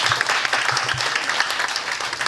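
Audience at a leadership academy lecture applauds to welcome a speaker, many hands clapping in a dense, steady burst, close and loud throughout.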